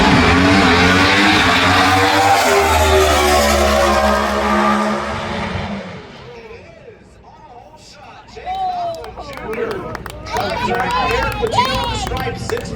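Top Fuel dragsters scream down the strip at the NHRA Gatornationals, a loud engine roar that fades into the distance and then gives way to crowd noise and an announcer talking.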